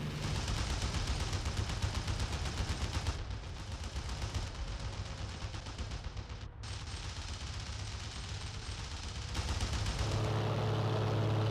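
Anti-aircraft guns fire in IL-2 Great Battles around a Hawker Tempest Mk V during the Battle of Bodenplatte, a dense rapid crackle of bursts layered over a constant engine drone, steady and loud across the whole stretch with no talk.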